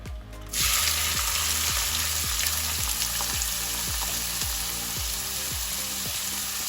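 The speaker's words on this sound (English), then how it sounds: "So to this oil, we're going to add finely chopped onions," About six finely chopped onions go into hot oil for a prawn thokku, bursting into a loud, dense sizzle that holds steady and close, with a faint rhythmic background beat underneath and no speech.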